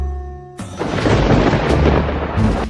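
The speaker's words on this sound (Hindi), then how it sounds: "ये बिना मौसम की गरजती हुई बारिश हमें क्या संकेत देती है?" A deep rumble of thunder rolls in after a brief tonal hum, swelling into a loud, sustained roar with a second surge near the end, heavy rain hiss mixed in, in an animated cartoon story scene; no one speaks.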